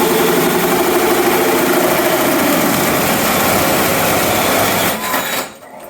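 A power drill bores holes through a freshly painted firewall, whirring loudly and steadily for about five seconds before winding down and stopping.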